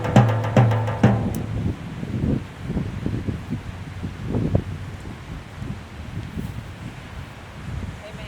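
Wind gusts outdoors with a low rumbling buffet and rustle that rises and falls over several seconds, following a brief voice at the start.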